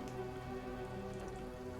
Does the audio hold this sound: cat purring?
no